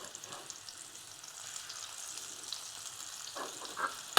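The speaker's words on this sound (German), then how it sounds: "You can hear it frying." A sausage-meat burger in the style of a Morteau sausage fries in a hot pan, a quiet continuous sizzle with light crackles that grows slightly louder toward the end, with no voices.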